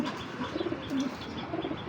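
Giribaz pigeons cooing in soft, low, repeated coos, with a few light chirps mixed in at close range and no talking.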